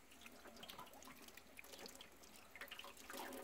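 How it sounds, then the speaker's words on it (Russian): Tap water trickles and splashes faintly and steadily while freshly picked wild porcini mushrooms are rinsed of dirt, with small drips and wet handling noises and no voices. "Немножко обмываю грязь, чтобы не было."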